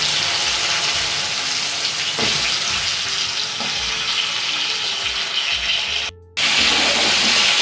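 Taro and green chillies with tempered spices sizzle steadily in a pan, a dense continuous hiss with scraping stir strokes throughout and a brief drop near the end, with no talking.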